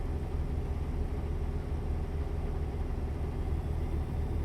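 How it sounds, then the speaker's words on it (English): Heavy truck engine in the simulator game American Truck Simulator, running on a multiplayer trip from Seattle, Washington to Salmon Arm, British Columbia: a steady, low droning rumble, constant in level and alone without talk. "And then the engine sounds weren't very loud either."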